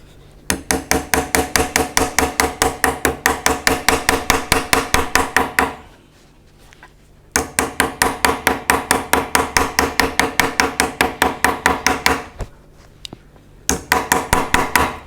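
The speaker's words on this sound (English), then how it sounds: "And I'll use my little toffee hammer." Rapid, steady metallic tapping from a small toffee hammer on aluminium, close and loud, in three bursts separated by short pauses.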